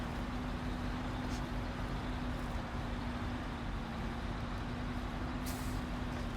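A truck in the SnowRunner video game drives with a steady, loud engine drone and a constant low hum, joined by brief hissing bursts like air brakes, with no talking.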